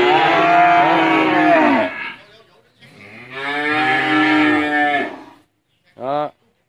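Large cattle on a farm in Tra Vinh give two long, loud, resonant moos close by, followed by a shorter low call, with quiet gaps between.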